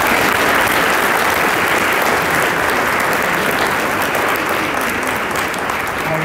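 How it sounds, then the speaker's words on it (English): Loud, sustained applause from a large crowd at an awards banquet, dense clapping that continues steadily for several seconds. "Let's give him a round of applause."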